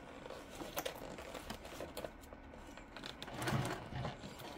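Sewing machine stitching with a toddler helping at the controls, quiet uneven bursts of rapid mechanical clatter with small pauses and soft handling sounds, no talk.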